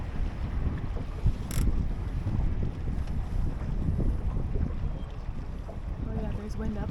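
Steady wind noise rushing across the microphone aboard a sailboat racing at a club championship, a continuous broadband buffeting with water and hull sounds beneath it.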